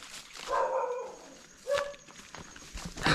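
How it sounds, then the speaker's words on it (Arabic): Outdoors on the island of Bali, a dog barks at a distance, a few short, faint yaps over quiet background noise. "اوكي عندهم كلب"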